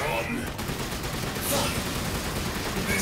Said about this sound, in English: There's so much shooting right here.